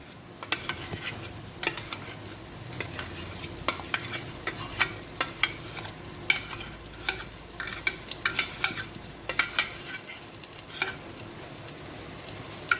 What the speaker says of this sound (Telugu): నేను ఇప్పుడు ఉడకబెట్టుకున్న గోంగూర ఏదైతే ఉందో దాన్ని వేస్తున్నాను.